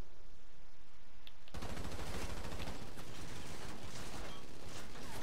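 Sustained automatic gunfire in GTA V Online erupts after a quiet second and a half, then continues as dense, rapid bursts of shots, loud and close throughout with no talking.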